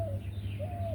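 A dove calls outdoors in a garden, giving two drawn-out cooing notes separated by a short pause over a steady low background hum.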